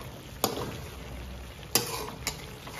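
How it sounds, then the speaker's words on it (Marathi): Chicken curry simmers down in a pan with a soft, continuous sizzle, broken by three sharp scraping stirs of a spoon against the pan. "आता राहिलंय त्यातला रसा आटायचा"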